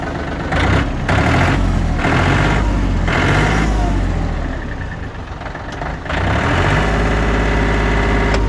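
A Yanmar AF26 mini tractor with a front loader runs its engine close by, a steady loud diesel throb that swells as the throttle opens and holds, with a brief dip midway before rising again.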